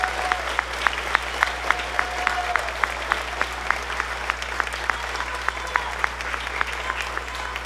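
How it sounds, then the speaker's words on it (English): Audience applause at a spring school band concert, steady dense clapping from a crowd sustained throughout, with a few sharp distinct claps standing out over a constant low hum. "Let's give all of these students one more round of applause."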